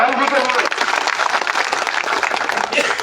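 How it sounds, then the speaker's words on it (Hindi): Crowd at an outdoor public rally applauding loudly and continuously for several seconds, dense clapping from many people, with a voice over it at the start. "जोरदार तालियां प्रधान जी के लिए"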